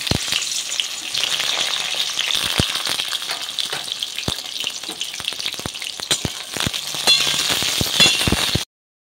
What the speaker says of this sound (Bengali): এবারে বেগুনগুলো দিয়ে দিচ্ছি